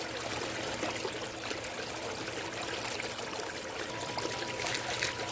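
Water streams steadily and fairly loudly over the riffles of a Mini 6 switchback gold concentrator with a Miracle Mat, a continuous rushing trickle with no speech.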